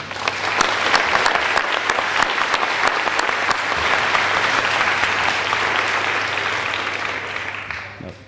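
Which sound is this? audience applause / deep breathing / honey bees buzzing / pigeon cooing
audience applause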